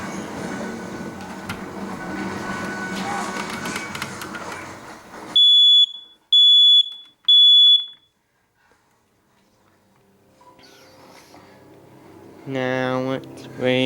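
A smoke alarm under test gives three sharp, loud high-pitched beeps in a row after a stretch of rumbling background noise, then a person speaks briefly.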